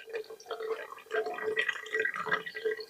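Water is poured, a close, gentle burbling trickle with irregular splashy drips that rises and falls over a few seconds.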